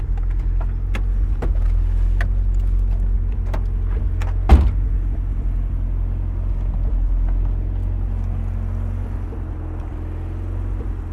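The engine of a built 1991 turbo Mazda Miata idles in a low, steady rumble, with faint clicks and a single sharp knock partway through.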